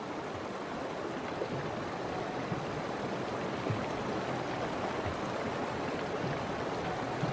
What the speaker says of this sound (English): But the waters are cold and fast, too fast for the tiny calves.